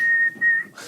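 A single person whistles a steady, clear tone, pausing briefly and then resuming. The whistle is close and loud, with faint background noise.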